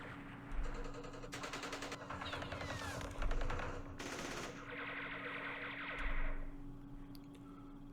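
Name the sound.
direct fire at mortars in a video game, Campaign Series Vietnam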